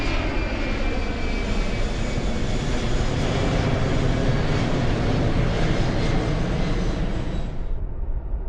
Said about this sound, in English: we have officially started flying. We are officially in the air.